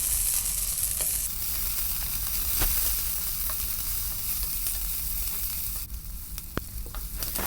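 Shallots and curry leaves sautéing in a pan for Kerala-style fish curry, a steady near sizzle with occasional sharp taps and scrapes of a spoon, no speech.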